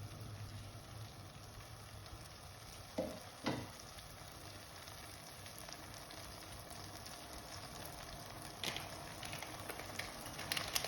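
Egg malai curry gravy cooking in a pan, a faint steady sizzle and bubbling throughout, with a couple of brief spoon-stirring knocks and scrapes partway through.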